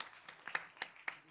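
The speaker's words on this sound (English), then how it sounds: "Please, warm applause for Gustavo Torres, please." Audience applause welcoming a panelist to a discussion on forging an independent economic model, heard as a brief patter of claps with a few distinct sharp hits.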